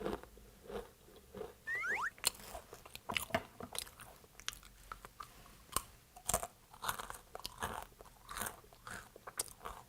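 Ginger-flavoured Korean food is chewed close to the mic, with crisp crunches and bites followed by softer, wetter mastication in an uneven rhythm and no speech.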